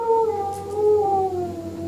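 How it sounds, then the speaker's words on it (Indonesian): A dog lets out a long drawn-out howl, a sustained wavering tone that slowly falls in pitch, used as a sound effect over a dark, quiet background during a stage monologue. "saya melihat gonggongan anjing"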